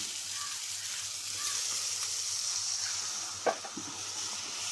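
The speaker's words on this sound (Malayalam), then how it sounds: "ഇനിയിപ്പം ഇതിനകത്തേക്ക് നമ്മൾ കുറച്ച് വെള്ളം ഒഴിക്കുകയാണേ" A steady sizzling hiss of sausage roast masala fills the pan, with a brief louder splash-like burst near the end as water is poured in.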